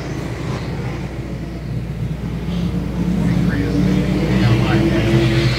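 Race cars roar around the track at night during the 2018 Lone Star 600, a steady loud engine drone swelling as cars pass, with announcers talking over it.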